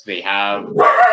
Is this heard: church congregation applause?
no